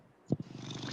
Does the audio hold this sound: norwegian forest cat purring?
yes